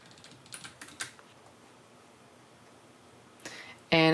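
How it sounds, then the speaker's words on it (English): Short burst of typing on a computer keyboard, a quick cluster of light key clicks near the start, then a quiet pause, one more tap and a loud sudden noise at the end. "just type in a really large amount here"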